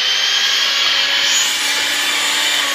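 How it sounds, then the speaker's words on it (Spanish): Eggs being beaten until fluffy for keto bread with an electric mixer, a steady, loud whirring drone that runs unbroken and close throughout, with no talk. "vamos a batir los huevos para que queden esponjaditos"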